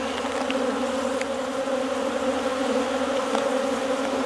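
Honey bees swarm and hum around an open hive heavy with honey on a small farm, a dense, steady drone that holds close and even throughout with no voices.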